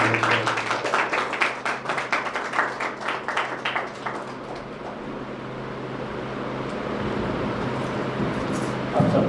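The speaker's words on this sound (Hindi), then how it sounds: "ताली बजा के पास्टर जी और उनकी वचन दिया ताली बजा के" A church congregation claps for the pastor, a loud rhythmic round of hand claps that fades after about four seconds into a steady low rumble of room noise.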